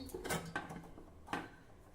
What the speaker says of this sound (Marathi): डब्याचं झाकण घट्ट बंद करून घेऊ